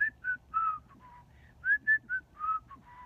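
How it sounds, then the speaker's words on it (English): Someone whistles a lilting tune nearby, short clear notes rising and falling in a playful melody, alone in a quiet room. "While Lucy watered, she whistled a song."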